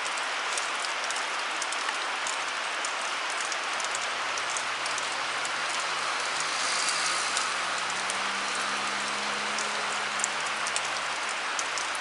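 Outdoor rain hisses steadily and evenly, with a small gas bicycle engine idling as a low hum underneath that rises in pitch partway through.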